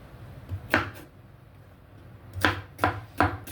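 Okra being chopped on a board for an okra and vegetable soup: a single knife chop, a pause, then a quick run of four sharp, close strikes.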